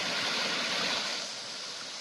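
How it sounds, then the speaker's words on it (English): A small waterfall where two creeks meet, a steady broad rush of falling water that stays close and loud throughout, easing slightly toward the end. "A little waterfall."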